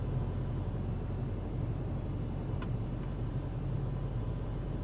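Steady low engine rumble from a Piper Arrow light aircraft taxiing after landing in a flight simulator game, a continuous droning hum at even loudness with no voices.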